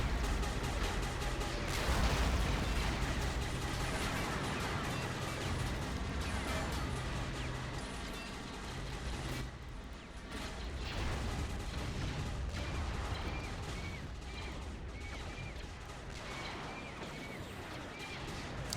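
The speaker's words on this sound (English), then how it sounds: "defense is taking some serious fire down there" A large sci-fi battle in the Star Wars: Galaxy at War mod, with dense gunfire, artillery booms and blaster fire roaring loud and continuous throughout and no talk.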